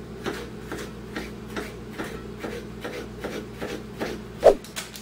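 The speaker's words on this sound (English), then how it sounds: "And we're just going to cut these into strips." A knife cuts vegetables into strips for chicken fajitas, producing a regular series of soft, evenly spaced chops on a cutting board, close and fairly quiet, with one slightly louder knock near the end.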